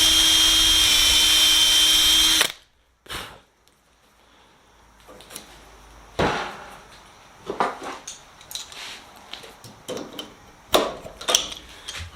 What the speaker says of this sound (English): I'm going to go ahead and drill out the second one